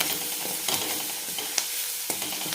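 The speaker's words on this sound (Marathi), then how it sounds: "हळद पण छान तेलामध्ये या तळून घेणार आहे" Turmeric frying in hot oil for a potato dish, a close, continuous sizzle broken by quick scraping and clinking strokes of a spatula against the pan.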